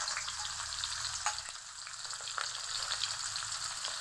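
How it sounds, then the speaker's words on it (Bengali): Chopped onions fry in hot oil in a wok, giving a steady, close, crackling sizzle with a few light stirring clicks and no talking. "তেল গরম হয়ে গেছে, দিয়ে দিব পেঁয়াজ কুচি"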